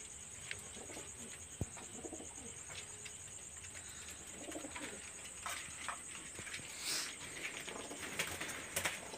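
Pigeons of a Khulna line coo softly in a loft, a low steady murmur with occasional wing flutters and small knocks, faint and continuous with a constant high whine in the background.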